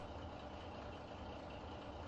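A tractor engine idles steadily in the farming video game Farming Simulator 17, a low continuous rumble that stays even and fairly quiet, with no talking over it.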